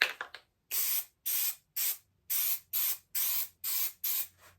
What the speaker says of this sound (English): we're going to spray some 3M 200 tack.